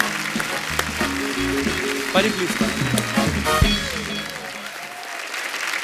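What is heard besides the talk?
studio audience applause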